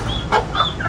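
Aseel fowl at a terrace farm setup gives a few short clucking calls over a steady background murmur, close and moderately loud, with no talking.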